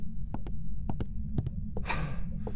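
The heartbeat effect from the horror game Phasmophobia thumps as a low, throbbing pulse, repeating in soft paired beats under a steady hum, with a brief rustle near the end.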